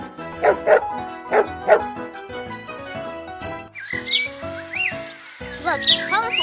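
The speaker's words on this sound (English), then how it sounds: "Now cheerful dogs, they are our best friends." Cheerful cartoon-style dogs bark in bright, bouncy bursts, then yip and whimper in higher squeaky calls. The barks are close and loud, with short pauses between them.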